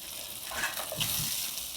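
Pomfret fish coated in masala fries in a pan, a soft, close, continuous sizzle with faint crackles throughout the brief moment.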